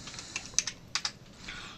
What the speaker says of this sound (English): I type in Ipconfig